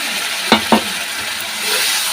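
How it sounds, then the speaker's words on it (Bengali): Eggs drop into oil frying with spices in a pan and get stirred, two quick spoon knocks standing out over a loud, steady sizzle that hisses throughout. "তেল ছেড়ে দিয়েছে মশলা থেকে এবার আমি ডিমগুলো এর মধ্যে দিয়ে দিচ্ছি"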